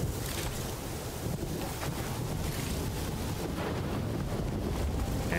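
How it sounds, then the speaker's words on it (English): Steady, loud wind roars through Horizon Forbidden West, a dust-laden gust blowing continuously with a gritty, rushing texture and no voices over it. "that's a lot of wind with a lot of dust."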